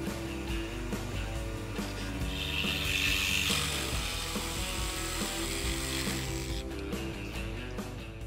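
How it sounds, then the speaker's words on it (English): Power drill boring entrance holes into a wooden swarm trap box, a loud steady whirring grind with ratcheting mechanical texture that swells in the middle and eases off near the end. "Time to drill the entrance holes."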